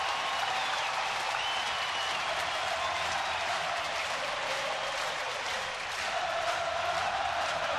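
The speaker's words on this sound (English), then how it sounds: "And now the crowd might get back in it." A baseball stadium crowd at an Orioles home game against Boston applauds and cheers in a steady, dense wash of clapping that holds at full volume throughout, with no clear speech.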